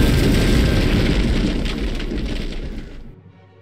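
Explosion blowing up a gate in the Roblox game Guts & Blackpowder, a loud close boom with a rumbling roar that slowly fades out over a few seconds, with no voices.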